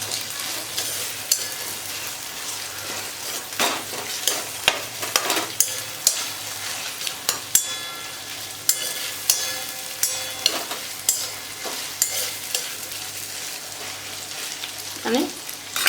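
Surti undhiyu vegetables with tuvar and peas frying in a wok, a steady sizzle under repeated scraping and clattering strokes of a spoon as they are stirred, close and fairly loud.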